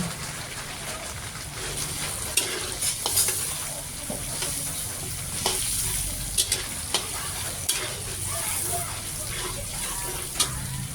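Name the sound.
onion and garlic sautéing in melting margarine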